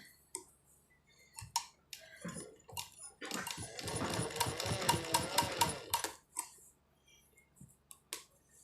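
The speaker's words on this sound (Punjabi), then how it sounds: "ਆਪਾਂ ਇਸ ਤਰ੍ਹਾਂ ਆਪਾਂ ਸਿਲਾਈ ਕਰ ਲੈਣਾ ਆ" A sewing machine stitches fabric for a kachhehra, opening with scattered clicks and then running in a close, rapid rhythmic whir for about three seconds before stopping, with a few more taps and clicks afterward.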